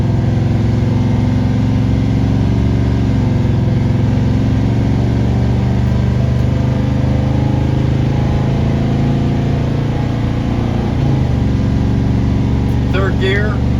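A car's engine drones steadily as it accelerates in second gear onto a main highway. A constant rumble with rising harmonics holds the whole time, and someone talks over it.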